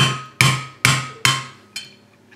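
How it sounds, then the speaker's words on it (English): A hammer drives a cork down into a liquor bottle with five sharp, ringing knocks spaced about half a second apart, the last one softer, close and with no talking. "take the hammer, and we're just going to drive it in very slowly"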